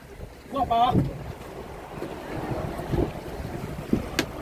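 A boat crossing from Tanjung Pasir, Tangerang toward Untung Jawa island in the Thousand Islands, with steady engine and water rumble and wind buffeting the microphone throughout, a person talking briefly near the start.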